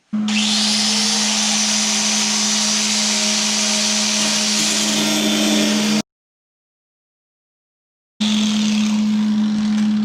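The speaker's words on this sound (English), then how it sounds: "You got to grind this down anyway, so let's grind this off." A grinder cuts down steel on a Ford F-350 cab corner, a loud, steady, close-up whine that runs for about six seconds, stops, then starts again after a short silence.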